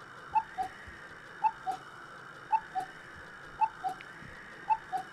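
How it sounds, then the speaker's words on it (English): A cuckoo clock in the Kamaitachi no Yoru video game calls four times, each a two-note cuckoo repeated at a steady, even pace over a soft background hum. "Cuckoo clock chimes."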